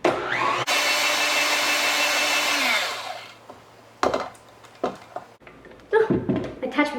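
Electric mixer stirring cake batter for a Chantilly cake in a bowl, a loud steady motor whir that runs for a few seconds and then winds down, followed by clattering and bowl handling, with a voice speaking.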